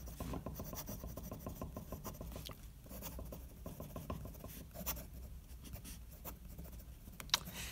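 A Parker Vector fountain pen writing quickly on paper, a close, faint scratching with rapid rhythmic strokes, short pauses and a small tap near the end, no voices.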